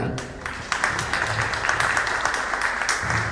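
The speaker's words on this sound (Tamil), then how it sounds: "ஒரு பெரிய கைத்தட்டல் கொடுங்க" An audience at a Bengaluru devotional Murugan event claps for the organisers, a crowded, continuous patter of hands at moderate loudness, carrying on throughout.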